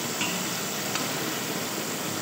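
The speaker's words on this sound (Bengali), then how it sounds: "ভালো করে কষিয়ে নেব মশলাটা কিছুক্ষণ" Spiced masala with tomato sizzling in a pan while it is stirred and cooked down for a tel potol curry, a steady close, even frying hiss with no voices.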